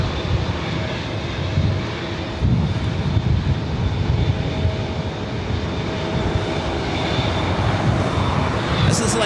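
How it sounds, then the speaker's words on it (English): A Delta Airlines Airbus A319 arrives at LAX from SFO, producing a steady, loud jet engine roar that drones on throughout with broad low rumble, heard outdoors at an airport. "Next arrival is Delta Airlines flight 2533 coming in from SFO in an A319."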